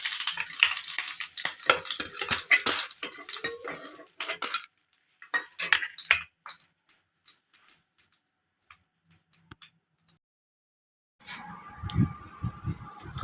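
Green chillies sauté in a pan for roasted gram chutney, with a bright sizzle for the first few seconds, then scattered scrapes and metallic clinks from a spoon stirring. Short quiet gaps fall between the stirs, and a final burst of clatter closes the sequence.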